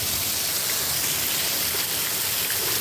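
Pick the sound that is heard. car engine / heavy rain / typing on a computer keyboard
heavy rain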